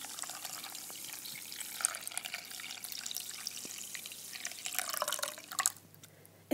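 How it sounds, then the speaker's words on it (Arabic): Cold tap water runs and drips over bulgur wheat being rinsed in a bowl for fried kibbeh, a steady close splashing trickle with a louder gush near the end; no talking. "راح اغسل البرغل بالمي الباردة واعصره."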